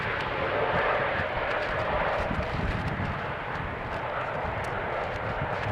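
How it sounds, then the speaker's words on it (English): A SkyTeam-liveried Embraer airliner passes at Amsterdam Schiphol on a windy day, a broad, steady jet roar with gusty rumble that stays loud and even. "Another Sky Team liveried"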